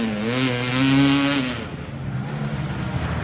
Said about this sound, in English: That's a 4-stroke engine.